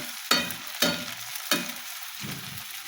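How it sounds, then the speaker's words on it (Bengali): Fish frying in mustard oil in a wok, for hilsa with bottle gourd: sizzle pulses in three sharp bursts with softer crackling between, close and steady, no voices. "মাছগুলো ভাজি করে নিয়ে নিলাম এবার"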